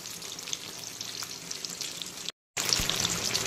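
Eggplant pieces with stems on, fried in oil on their second side for a hilsa curry, crackle and sizzle steadily up close, broken by a brief gap, with no talking.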